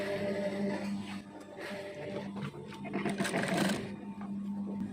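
Sewing machine stitching around the satin lining of a fabric bag, a faint mechanical whirring hum with short bursts of needle clatter, running alone and quietly.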